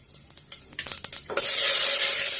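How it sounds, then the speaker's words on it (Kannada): Chana dal, cumin and mustard seeds tossed into very hot oil: a few light clinks and stirring rattles, then a sudden loud, steady sizzle that fills the rest of the moment, close up. "ಸೊ ಇವಾಗ ಸ್ವಲ್ಪ ಕಡಲೆಬೇಳೆ, ಜೀರಿಗೆ, ಸಾಸಿವೆ. ಸೊ ಆಯಿಲ್ ತುಂಬ ಬಿಸಿಯಾಗಿದೆ."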